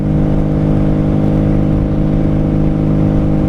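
A carbureted four-cylinder 1995 motorcycle with Jardine pipes, one carb and one pipe per cylinder, runs with a loud, steady, dense exhaust drone throughout, holding even and close with no breaks.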